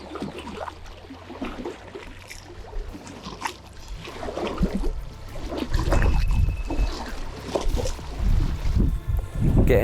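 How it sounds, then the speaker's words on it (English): Small fishing boat pushed at full throttle across a big pit in strong wind, a steady low engine drone and water rush building louder over the second half, with gusts buffeting the microphone throughout. "Engine on full bore, wind blowing me all over the place."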